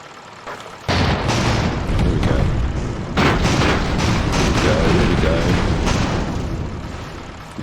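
Heavy booming blasts and rumbling destruction as bombs tear into the underside of an enemy airship in the game Airships, a sustained loud barrage with a sharp onset and repeated impacts.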